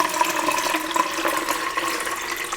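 Water pours steadily into a cold brew coffee pitcher with a pour spout, a continuous close splashing rush with no talk.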